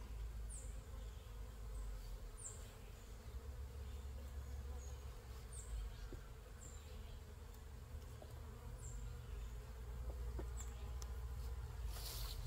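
Honeybees hum steadily and close throughout a midsummer hive inspection, a dense continuous buzz with occasional louder individual insects passing by and no talking.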